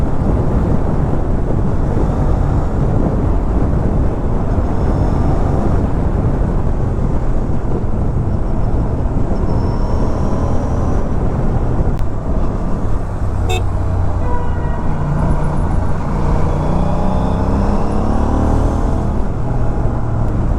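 Aprilia RS 457 motorcycle with a GPR full-system exhaust and DB killer fitted, ridden at night on a four-lane road, giving a loud, continuous engine drone through heavy wind rush with shifting tones as the revs change.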